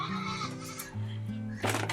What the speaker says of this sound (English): As you can hear, the poor boys are feeling very abandoned right now, having just completed their first day of being weaned.